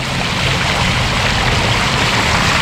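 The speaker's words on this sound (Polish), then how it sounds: "uwalnianie basenu z nadmiaru wody" Loud, continuous rushing of excess water pouring out of a pool onto the street and splashing, steady and close.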